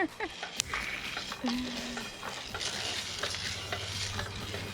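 Coffee beans roasting in a pan on a camp-style stove, stirred with steady scraping and rustling over a low background hum, with a brief voice murmuring underneath.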